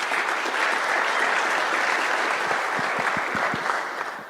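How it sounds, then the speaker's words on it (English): An audience claps through a few seconds of steady, dense applause at the U10 technical meeting for the Umag Trophy 2025 tournament, close and full before tapering off near the end. "let's give a round of applause to Kice, who was warming up the atmosphere."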